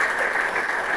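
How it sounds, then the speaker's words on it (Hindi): Loud audience applause fills a college hall welcoming the launch of the Code Combat 2.0 coding competition, a brief, dense wash of clapping with no pauses. "एक बार कोड कॉम्पैक्ट के शुभारंभ का हम सभी लोग जोरदार तालियों के साथ जरूर स्वागत करेंगे।"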